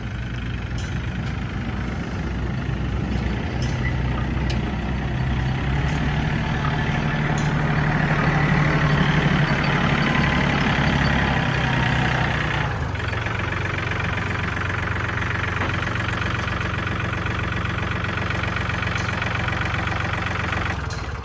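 A used Yanmar 39 walk-behind tractor engine idles nearby with a steady, loud, knocking diesel chug that shifts slightly in pitch partway through and runs continuously with no talking.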